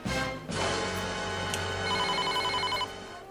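A phone rings on a call to a friend, a steady electronic ringing tone repeating over a continuous background hum for a few seconds, fairly loud and with no talking.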